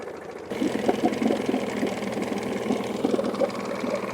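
A small outboard boat engine that had been overheating runs steadily after a brief quiet start, a continuous close mid-pitched idling rumble with a fast knocking pulse that holds even for about four seconds.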